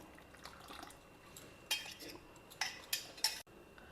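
A spoon stirs ground onion and tomato paste with a cup of water in a pot, giving soft wet scraping with a few sharper metallic clinks against the side, close and quiet with no talking.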